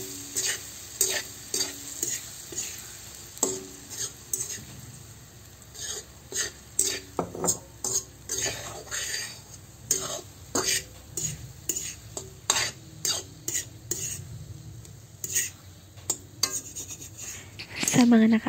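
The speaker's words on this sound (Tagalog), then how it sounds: "ilagay na natin ang binating itlog. Pagkatapos mailagay ay halo-haloin lang ito." Beaten egg is stirred in a pan for an egg and tomato dish, rhythmic utensil scrapes and taps against the pan over a soft sizzle, close and steady.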